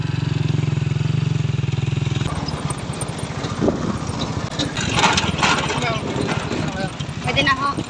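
A motorcycle engine idles with a steady low throb on an uphill road, then continues more roughly as people talk over it nearby.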